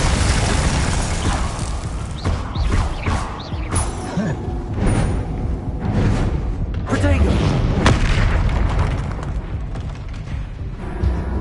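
Several heavy booms from a Confringo blasting spell in a video game burst out one after another over a busy, rumbling background, with voices talking.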